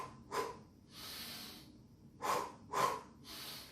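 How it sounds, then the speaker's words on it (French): Breathing sounds for a running technique: sharp nasal sniffs and puffs of breath in an uneven rhythm, four or five distinct bursts, close and fairly quiet, with no talking. "la technique de respirer pour gagner les courses"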